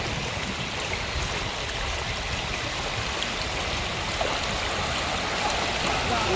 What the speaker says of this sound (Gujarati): અત્યારે પાણી ઊભું થયું એક નંબર વરસાદ આવ્યો